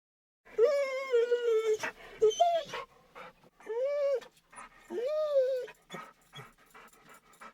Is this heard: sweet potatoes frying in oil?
no